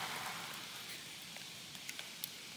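Rain falling on a house in Tenerife during a storm, a steady soft hiss of drops with a few sharper isolated drips near the end, heard from indoors with no talking.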